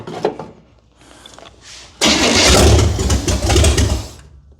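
A 1978 Nova engine cranks over and catches after about two seconds of quiet clicking and rustle, then roars loudly and revs up and down close by, rough and throaty, before settling lower.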